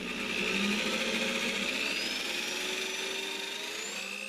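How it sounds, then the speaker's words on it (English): A power drill whines continuously, its motor pitch shifting slightly as it runs, steady and close with no talking. "we're going to go ahead and give it a drill"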